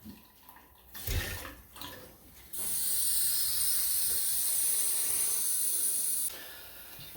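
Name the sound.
water flowing through boiler pipes during purge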